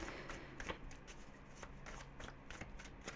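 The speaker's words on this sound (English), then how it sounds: "I'm going to shuffle this 3 times." Tarot cards being shuffled by hand in a quiet room: rapid, soft riffling and flicking bursts, close and fairly faint, with no talking.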